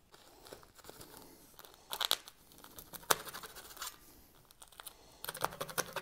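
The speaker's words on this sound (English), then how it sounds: "I'm just going to start from one corner and pull out some of this tape" Masking tape is peeled from its roll at a skirting board beside carpet, giving faint, irregular crackling rips that swell into denser tearing bursts near the end.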